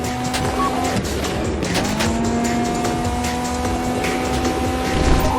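A car races along in GTA 5 Online during a bank heist getaway, its engine droning loudly and steadily throughout with faint tyre noise, set against a continuous game soundtrack.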